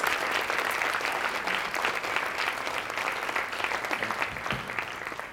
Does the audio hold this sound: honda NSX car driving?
no